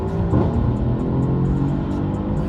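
A Mercedes C63 AMG engine pulls hard through its gears, a close, loud, continuous drone with a rough rumbling edge.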